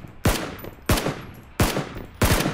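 Four loud, close gunshots ring out in PUBG, evenly spaced single shots each with a sharp crack and a short decaying tail.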